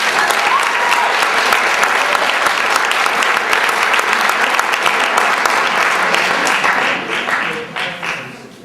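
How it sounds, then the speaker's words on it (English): Steady, dense applause from an audience at a March 2005 school winter sports awards ceremony, honoring the CBAC Coach of the Year; the clapping holds strong for several seconds, then thins and fades toward the end. "How about a big round of applause for Andy being named CBAC Coach of the Year."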